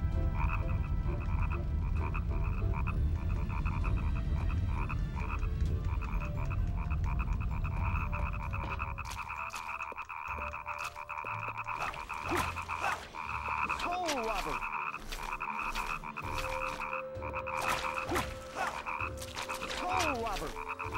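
Frog croaking in The Nightmare Before Christmas: Oogie's Revenge video game, a dense low rumbling chorus that gives way to sharp repeated croaks and clicks over a steady musical drone, moderately loud throughout.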